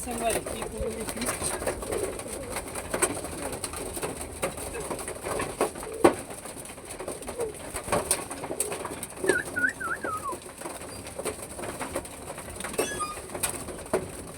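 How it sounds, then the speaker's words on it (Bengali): Pigeons feeding on grain in a loft or yard, soft repeated cooing and wing flutters with pecking and shuffling, close by; a person talks intermittently throughout. "এই যে আমাদের সব কবুতরগুলা খাচ্ছে আর ধুলো উড়াচ্ছে।"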